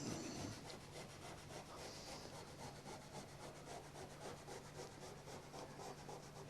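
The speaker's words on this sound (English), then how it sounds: "carefully rub the tape edges with a piece of Scotch-Brite" Scotch-Brite pad rubbed along masking tape edges on a 1932 Ford body being prepped for candy paint, a steady close scraping and scuffing that runs continuously with no talk.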